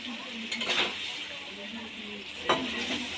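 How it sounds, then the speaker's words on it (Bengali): Previously fried vegetables for a bitter gourd curry are tossed and stirred in a hot pan, giving a steady oily sizzle with scraping spatula strokes, including a sharper scrape near the end. "এবার ভেজে রাখা সব সবজিগুলো আমি দিয়ে দেবো দিয়ে কষিয়ে নেবো"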